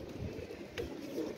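A pigeon coos softly in a low, muffled murmur, faint and close against a quiet background.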